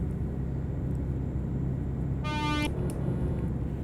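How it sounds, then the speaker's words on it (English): A single brief truck horn blast in Euro Truck Simulator 2 multiplayer, about half a second long, sounds over a constant loud engine rumble, with a faint short toot following. "Can barely hear my horn."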